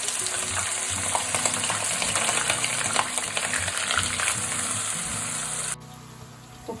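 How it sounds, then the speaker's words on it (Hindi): Onions for achari chicken curry fry in ghee and oil, a loud, close, continuous sizzle and crackle with stirring scrapes, which cuts off abruptly near the end, leaving a quiet hum. "तो प्याज को गोल्डन ब्राउन होने तक हमने फ्राई करना है।"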